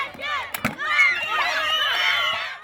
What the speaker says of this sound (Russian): Болельщики скандируют слова поддержки без устали